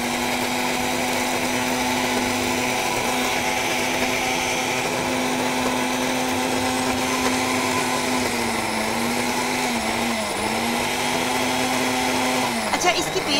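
A kitchen blender grinds ingredients with milk into a paste, its motor holding one steady, loud whine for about thirteen seconds. The pitch sags briefly near the end before the machine stops.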